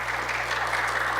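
Church congregation applauding during a Sunday worship service, a steady dense wash of clapping that fills the whole moment without a break.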